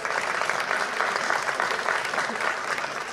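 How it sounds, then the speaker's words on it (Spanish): Steady audience applause at a combat reenactment of a falcata and spear duel with caetra and scutum shields, sustained clapping from a nearby crowd throughout with no pauses. "Fíjense, un aplauso,"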